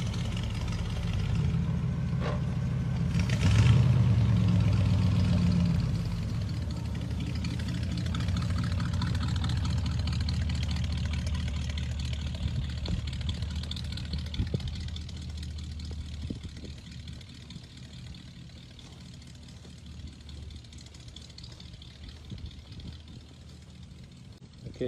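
A 1953 Oldsmobile 88 idles steadily with a low, even rumble, a brief rev swell near the start, then settling into a quieter, smooth idle that fades slightly toward the end.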